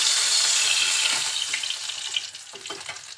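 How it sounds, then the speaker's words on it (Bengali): Fresh taki fish frying lightly in oil in a kadai, giving a close, steady sizzle that gradually eases, with a few soft stirring clatters near the end and no talking. "একদম টাটকা মাছ, সেই জন্য আমি বেশি ভাজবো না, খুব হালকা করে ভেজে নিয়েছি।"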